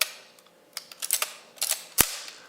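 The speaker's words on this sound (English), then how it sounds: "This ratchet just kind of turns and nothing happens." Film advance ratchet on a Pentax 67 medium format 6x7 camera turning loosely without tension, a series of sharp close mechanical clicks in irregular bursts with one louder snap, no talk.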